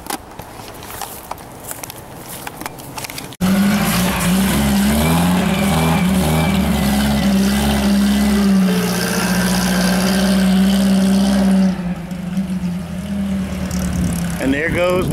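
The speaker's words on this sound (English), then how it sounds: "And there goes one of his cars." A loud car engine roars past at close range, holding a steady, heavy drone for several seconds before fading. Quieter street sounds and light scuffing come before it.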